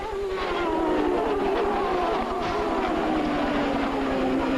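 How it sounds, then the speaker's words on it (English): An IndyCar at the 1999 Honda Indy 300, running with its engine off song, roars past nearby. Its whining note glides steadily downward in pitch as it goes by. "We've had another car pass our position with the engine off song."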